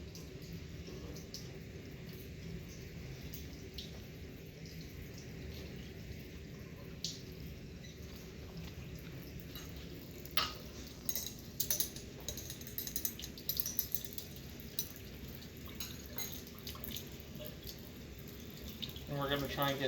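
Tap water runs steadily while lab glassware from an aspirin preparation is washed out, with clinks of glass and a stir rod building toward the end and a voice speaking at times.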